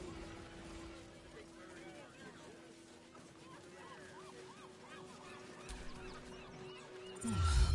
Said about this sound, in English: I've got plenty on my plate with these mewling geese